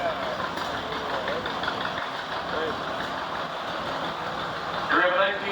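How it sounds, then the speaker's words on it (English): A 1943 Farmall H tractor runs in a steam show parade, its engine holding a steady, low idling rumble nearby against outdoor background noise and faint chatter. "Here we have a 1943 Farmall H."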